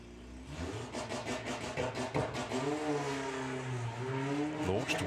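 Drag racing cars launch off the start line at a drag strip, engines revving hard and rising in pitch together, loud and close, with announcer talk over the roar.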